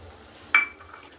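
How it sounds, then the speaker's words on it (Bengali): Fried peanuts tipped into a pan of cauliflower and potato give one brief clattering rattle against the metal, then a faint scrape and soft low sizzle fade away quickly. "এখন ভেজে রাখা বাদামগুলো ঢেলে দিলাম"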